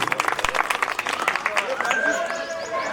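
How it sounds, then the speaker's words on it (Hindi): A crowd at a political gathering in India claps in scattered bursts while people talk over the noise. The clapping fades after a moment into the murmur of voices. "ताली बजा दो बंसल जी।"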